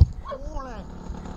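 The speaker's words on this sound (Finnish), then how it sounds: "Siellä koira haukkuu" A dog barks once, briefly, in the distance outdoors, under a steady engine-like rumble.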